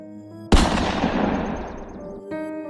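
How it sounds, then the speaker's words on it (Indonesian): A single loud pistol shot cracks out sharply, then a long echoing decay trails off over about two seconds, set against soft background music in a dramatized story. "Pistol itu meletus."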